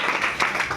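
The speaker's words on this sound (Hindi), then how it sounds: "ताली मार इसके लिए।" Students in a Sanskrit classroom break into a brief burst of clapping, a dense patter of many hands lasting under a second.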